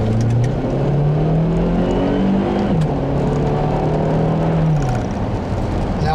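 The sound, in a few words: 2009 Acura RDX turbo engine accelerating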